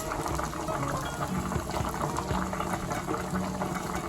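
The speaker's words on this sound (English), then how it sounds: "we are going to go on and fry our prawns" Prawns fry in melted butter in a pan for a creamy pasta, making a dense, steady bubbling sizzle close up with no pauses.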